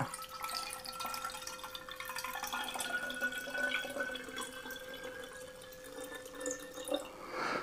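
Liquid poured through a spout or funnel into the container of a Parkside pneumatic sprayer, a faint, steady trickle with small splashes and drips at close range.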